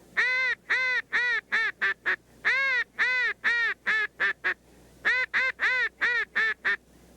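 A hunter blows a duck call imitating a distant duck: three groups of loud, honking quacks, each a run of drawn-out notes tapering into quicker, shorter ones, with brief pauses between groups.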